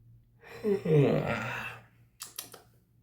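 A long, breathy yawn rises and trails off, followed by a few quick soft clicks or taps.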